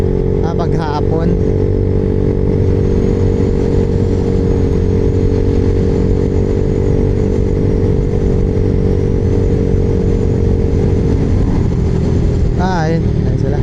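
Steady engine drone of Honda PCX scooters riding in a group, a continuous close hum with faint voices briefly audible near the start and end.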